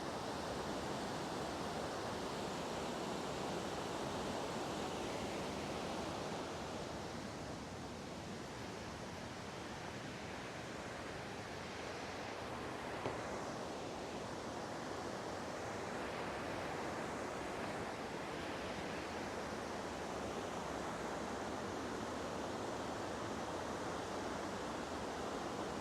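Whitewater rushes through Piers Gorge on a Michigan river, a loud, steady roar of churning rapids that holds nearly unchanged throughout with no voices.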